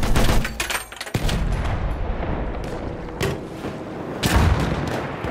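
Heavy booms and bursts of gunfire from a battlefield shooter video game, with an enemy machine gun firing amid explosions and artillery, loud and continuous with irregular sharp blasts throughout.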